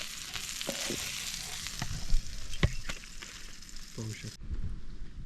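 Bangda and bombil fish frying on a wood-fire stove outdoors in a farm field, a crackling sizzle dotted with sharp pops and clicks, close by, cutting to quieter background near the end.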